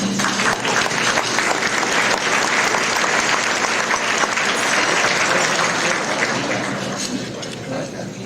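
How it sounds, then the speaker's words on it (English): A crowd at a space conference luncheon applauds loudly and continuously, a thick wash of many hands clapping that tapers off toward the end. "So if we can get a round of applause for Boeing."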